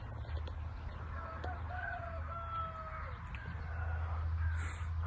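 A young, year-old purebred Turkish rooster crows in a thin, drawn-out call, faint against a steady low rumble and outdoor noise.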